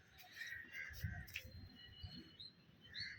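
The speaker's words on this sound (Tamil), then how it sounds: "நம்ம புறா 2 டேஸுக்கு இங்கே தான் இந்த கூண்டுல தான் இருக்கும்." A pigeon kept in a cage gives faint chirps and soft calls over a low background rumble, with brief scattered rustling throughout.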